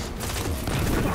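Rapid gunfire in the Destiny: Rise of Iron video game, a dense continuous burst of shots, loud and close.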